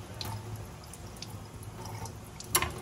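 Sparse water drips and a brief faucet splash while a dental cast is wetted, faint and intermittent over a low steady hum, with one sharper splash near the end and no talking.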